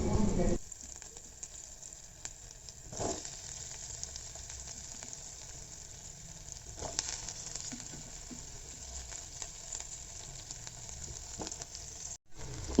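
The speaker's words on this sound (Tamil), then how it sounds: "வெங்காயம், பச்சை மிளகா, கருவேப்பிலை நல்லா வதங்கினதுக்கப்புறமா கட் பண்ணி வச்சுருக்கிற காலிஃப்ளவரை இது கூட சேர்த்துடலாம்." Cauliflower florets frying in a pan with onion, green chili and curry leaves, giving a steady close sizzle with occasional stirring bursts, no voices.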